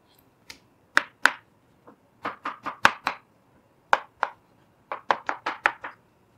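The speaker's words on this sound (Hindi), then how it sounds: "सबसे पहले इसका छिलका उतारेंगे और इसको स्लाइस में काट लेंगे।" A knife slices through a peeled mango on a cutting board, making about sixteen crisp, close cuts in irregular clusters with short pauses between them. No one talks.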